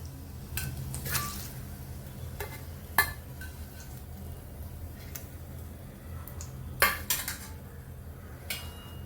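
Fried paneer being lifted out of an oil-filled pan, with sparse metal utensil clinks and scrapes against the pan over a faint low sizzle, a few sharper knocks standing out.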